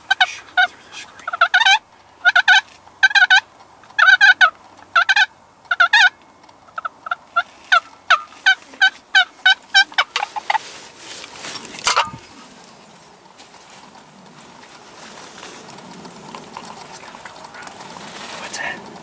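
Wild turkey gobbling near decoys during a Michigan hunt, a rapid series of loud, close gobbles and clucks in bursts, then quieter rustling and soft whispered talk from hunters.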